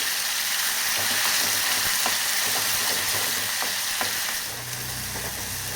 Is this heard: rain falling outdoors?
no